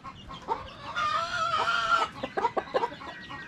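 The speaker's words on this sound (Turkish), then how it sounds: "Tavuk var, çağır mı oğlum?" Chickens cluck and squawk close by in a farmyard, with a drawn-out call early on followed by a quick run of short, choppy clucks.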